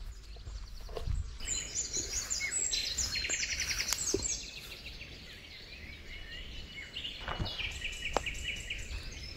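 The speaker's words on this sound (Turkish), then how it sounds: "Bu zengin ekosistem içinde gece ve gündüz kuş sesleri eksik olmaz." Several birds chirp and trill in overlapping calls, bright and fairly close, against a soft outdoor background in the Karacabey Longoz wetland forest, with no voices.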